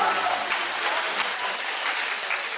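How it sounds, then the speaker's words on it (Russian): Dense, steady applause from an audience at a contest for retail workers, a continuous close wash of many hands clapping at even loudness throughout. "Аплодисменты, пожалуйста, поддерживайся вместе."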